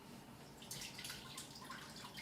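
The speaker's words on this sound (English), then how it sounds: "you're going to get your broth, the roasted garlic Cioppino, the base that's in the quart container, and you're going to pour it in there" Roasted garlic cioppino broth, a shellfish-stock base, poured from a quart container into a pot, a faint liquid splashing and dribbling that picks up briefly in the middle, quiet and with no voices.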